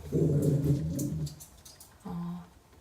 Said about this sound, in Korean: 저희 집에 강아지를 키우고 있어서 강아지 소리가 들어갈 수 있습니다.